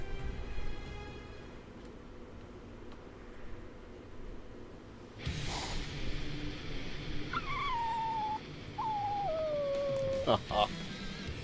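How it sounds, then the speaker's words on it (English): A dog being picked on by soldiers in the video game BLEACH Rebirth of Souls: whimpering, howl-like cries rise and fall over a low background hum, with brief sharp sounds near the end. "some soldiers might be picking on a dog, too"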